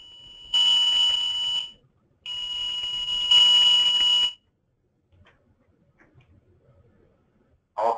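An Alertus all-clear alert tone sounds as two sustained, steady electronic tones with a brief gap between them, fairly loud, followed by near silence and a faint click.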